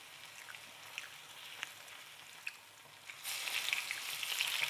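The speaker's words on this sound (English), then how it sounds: "I can see my Rosti already cooking and I'm brown in the corner." Potato rosti fries in a pan with a soft, steady sizzle and scattered crackling pops, which swell into a louder, denser sizzle for the last couple of seconds. No one speaks.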